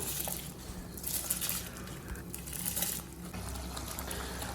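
Rice pours into bubbling water with a soft, steady rushing hiss and gentle splashing, quiet and continuous, with no voices.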